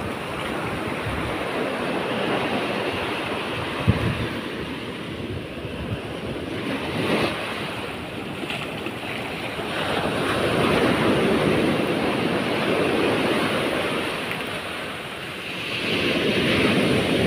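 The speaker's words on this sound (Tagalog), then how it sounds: "Malakas ang alon." Strong ocean waves crash and surge onto a beach in steady, loud roaring swells, with wind buffeting the microphone throughout and no voices.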